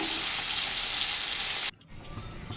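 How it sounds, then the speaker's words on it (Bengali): Pomfret fish frying in hot oil in a wok, a loud dense sizzle that holds steady, then drops sharply to a quieter crackle near the end. "তো আমি উল্টে ওপিটটাও একটু ভেজে নেব।"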